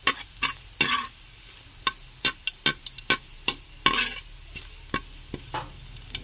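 Garlic fried rice (sinangag) stirred in a hot pan beside squid adobo, with distinct sharp spatula scrapes and taps in an uneven rhythm over a low, constant sizzle, close up and with no voices.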